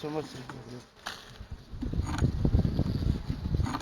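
Honeybees buzz around a beehive, a steady insect drone that grows louder and denser in the second half, with someone speaking briefly near the start.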